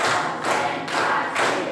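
Students in a classroom clap together in a counting game, producing a few loud, dense bursts of group clapping in a steady beat, with brief gaps between them.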